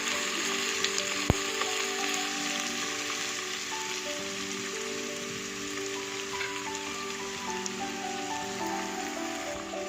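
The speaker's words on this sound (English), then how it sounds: "the beans, fry it for a minute or so." Beans and peas frying in a pan for Chinese fried rice give a steady, close crackling sizzle throughout, with a faint tonal hum beneath and one sharp tap near the start.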